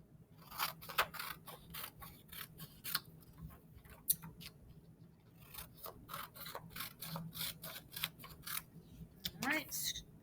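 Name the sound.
cutting paper with scissors, trimming off a name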